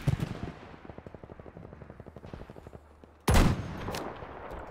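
Rapid automatic gunfire in Battlefield 5, a steady fast train of close shots that stops, followed by a sudden loud blast and lingering noisy rumble.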